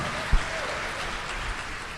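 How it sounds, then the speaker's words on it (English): Audience applause in a school auditorium at a 2012 Galveston mayoral forum: a steady, dense wash of clapping from a crowd, sustained at even loudness for about two seconds with one brief thump. "Why don't you give yourselves a hand?"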